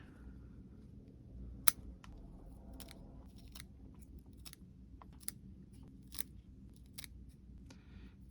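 Scissors trim and prune a Gandalf jade bonsai, producing a series of about a dozen sharp, close snips at irregular intervals over a quiet background.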